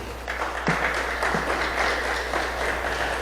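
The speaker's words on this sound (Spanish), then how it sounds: "Denle un aplauso, por favor, fuerte." A church congregation applauding steadily, a dense wash of clapping that holds at an even level throughout, with a few sharper claps standing out.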